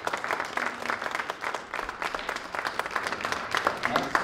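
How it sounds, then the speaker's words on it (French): An audience at a commemorative gathering gives a round of applause: moderately loud, textured clapping with individual claps audible, sustained throughout, with faint murmuring voices underneath. "on peut donner une belle main d'applaudissements"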